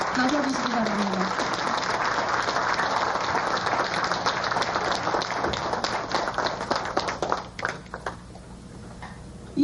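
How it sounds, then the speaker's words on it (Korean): At the 2002 Korean Disability Human Rights Award ceremony, an audience gives dense, sustained applause to welcome award recipient Park Ji-ju onto the stage. The clapping fades out near the end. "크게 격려의 박수와 축하의 박수를 겸해서 맞아주시기 바랍니다."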